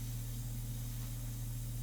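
An airbrush sprays India ink in a steady, close, continuous hiss over a low mechanical hum, with no pauses or talking.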